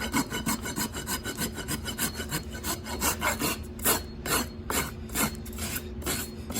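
Rasp scraping a horse's hoof wall during barefoot trimming, a loud close rhythm of regular back-and-forth strokes, each one a gritty rasping rub, with no talk.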